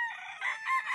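Fighting cocks on a game farm crow in overlapping calls, several harsh drawn-out crows layered together at close to moderate distance, with no talking.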